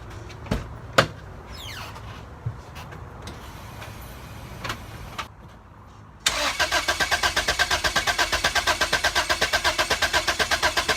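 An engine cranks over on the starter during a cylinder compression test on a turbocharged B-series engine, a loud steady run of rhythmic pulses beginning abruptly after a quieter stretch of ambient rustling and clunks.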